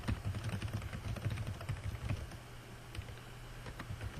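Someone types steadily on a computer keyboard nearby, the keystrokes irregular but continuous, with a brief lighter patch toward the end before the tapping picks up again.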